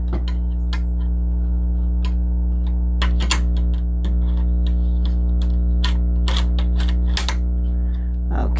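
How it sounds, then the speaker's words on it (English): An embroidery frame is fitted onto a multi-needle embroidery machine, giving a series of sharp plastic clicks and taps over the machine's constant low electrical hum. "I'm gonna place the frame on the machine"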